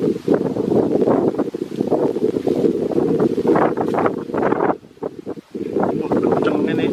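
Strong outdoor wind buffets the microphone in a steady roar through a rice-field hunt, with a short lull near the end before the gusts return; talk is heard over it.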